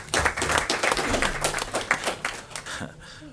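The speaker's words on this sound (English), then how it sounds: "Give her a round of applause." Clapping at a city commission meeting for a chili contest winner, uneven bursts of individual claps close by, with a voice murmuring under them as the clapping trails off.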